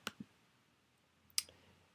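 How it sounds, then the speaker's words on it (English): Computer mouse clicking on a sales button in point-of-sale software, two sharp close clicks separated by about a second of near silence. "we're gonna go ahead and click on the sales button at the top right corner"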